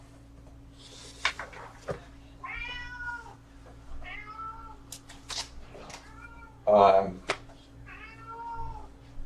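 A pet cat meows repeatedly at close range, several drawn-out harmonic cries spread through the stretch while a person talks over it beside a steady low hum.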